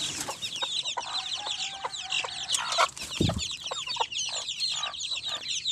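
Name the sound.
chickens clucking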